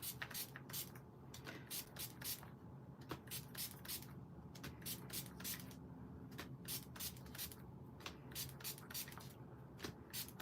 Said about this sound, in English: Now I'm gonna spray real fast.